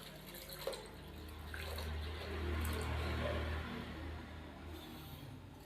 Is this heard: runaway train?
no